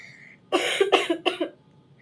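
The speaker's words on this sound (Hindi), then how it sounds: "इतना फास्टली जस्ट स्पीक हो रहा है तो मेरे को खांसी आ रही है।" Three harsh coughs in a row, close and loud, the first longest, with quiet before and after.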